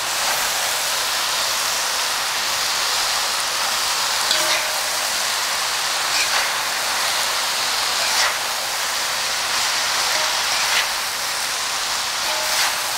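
Noodles and vegetables stir-fried with sauce in a hot pan give off a continuous loud hissing sizzle, with faint clicks and scrapes now and then and no talking.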